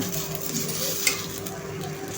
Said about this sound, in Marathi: तर सगळ्यात आधी आपण काय करणार आहोत, हे कांदे थोडेसे परतून घेणार आहे।